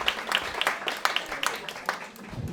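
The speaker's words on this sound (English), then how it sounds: "Round of applause." Scattered, loosely spaced claps from a live show audience, fairly close and moderately loud, with voices talking and reacting underneath throughout.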